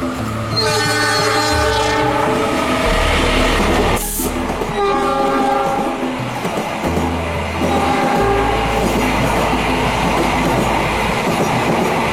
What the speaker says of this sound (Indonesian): Di sini kami memotret kereta api Jayabaya dari Malang tujuan Surabaya dan Jakarta.